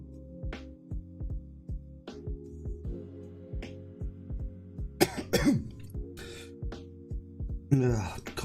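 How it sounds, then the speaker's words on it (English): Repeated coughing and throat clearing from peanut dust caught in the throat after eating peanuts, close and fairly loud, in bursts across the clip over a steady background hum. "Coughing because I was eating peanuts and now I've got peanut dust in my throat."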